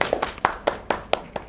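Seven spaced hand claps at a Hindi poets' stage gathering (kavi sammelan), sharp and fairly close, sparse rather than a full crowd, marking appreciation after a poem.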